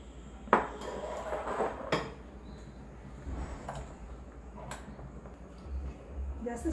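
Rice flour is stirred into water in a metal bowl for modak dough, with soft scraping and a few sharp clinks of utensil on metal against a quiet room hum; a voice is heard faintly at times.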